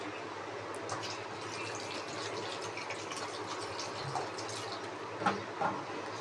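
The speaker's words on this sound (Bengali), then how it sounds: "কষানো হয়ে গেছে, এবার জল দিয়ে দেবে মধ্যে।" Water poured from a vessel into a pan of fried, cooked-down spices in a home kitchen, a steady soft pouring wash with a few brief splashes and drips near the end, no talking.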